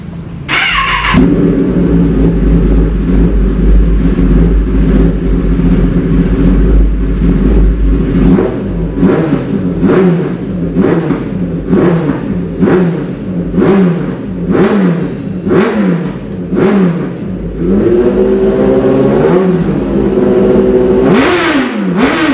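A 2018 Kawasaki ZX10R motorcycle engine fires up and idles, then revs repeatedly in sharp bursts that rise and fall, loud and close with a deep rumble underneath and no talking.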